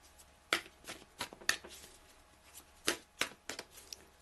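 A deck of tarot cards being shuffled by hand, a series of soft riffling slaps and taps spaced irregularly, close and quiet with no talking.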